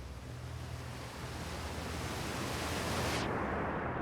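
Water waves in the video game Outer Wilds, heard as a steady, loud rushing wash of surf-like noise that swells slightly and then thins at the top end near the close.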